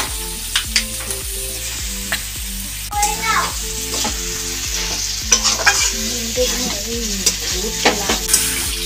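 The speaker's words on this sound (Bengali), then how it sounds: "মশলা কষানো হয়ে গেছে, এখন দিয়ে দেবে লতি।" Taro stolons go into spice masala that has been fried down in a pan, sizzling loudly and steadily while a utensil scrapes and stirs in regular strokes, close up, with faint background voices.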